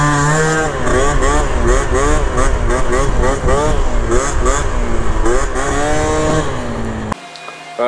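A Honda Dio AF16 72cc scooter engine with a prototype exhaust revs loud and close in repeated rising and falling bursts, then cuts off abruptly near the end.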